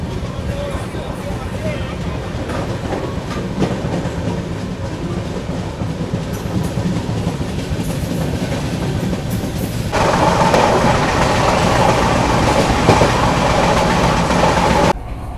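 Mandovi Express train running on the Konkan Railway, a loud, steady rumble of wheels and carriages with faint clickety-clack, rising louder partway through before dropping at the very end.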